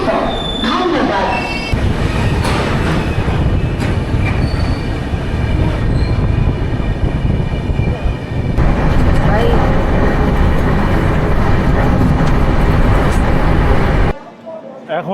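Gitanjali Express passenger train running on rails near Rourkela, a steady loud rumble of wheels and carriages with squealing metal, continuing for most of the span before cutting off abruptly near the end.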